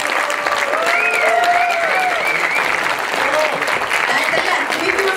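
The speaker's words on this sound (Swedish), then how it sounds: "Och så applåderar vi lite" Audience applause at a classic bodybuilding competition in Sweden fills the hall: dense, steady clapping that holds at full volume throughout, with a few shouted cheers and whistles rising above it.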